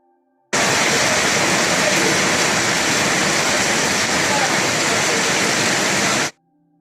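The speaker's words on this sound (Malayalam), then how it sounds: "മഴ തിമർത്തു പെയ്തു" Dense, steady roar of heavy rain, loud and unbroken, starting and stopping abruptly with no other sounds above it.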